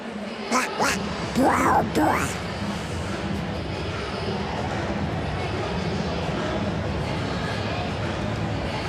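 At a baseball game broadcast beside the Ohio River, a man imitates a duck with a few quick quacks at the start. A steady hum of crowd and background noise continues after them.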